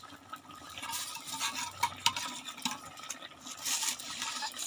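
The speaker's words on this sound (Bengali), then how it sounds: "দেখতে পাচ্ছেন তরকারিটা কি সুন্দরভাবে টকবক টকবক" A pot of curry bubbles and simmers on the stove, with soft, irregular wet pops and gurgles close by and no talking.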